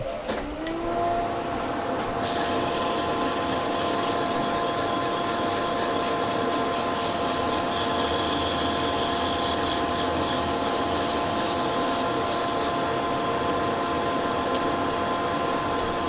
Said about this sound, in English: I just want to sand it before we do that.